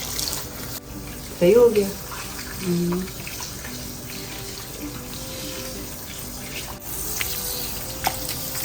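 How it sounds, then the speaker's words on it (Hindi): Cold water runs steadily from a tap at a salon basin during hair washing, with a constant close hiss under brief speech and a few splashes. "अब ठंडा पानी आने लग गया"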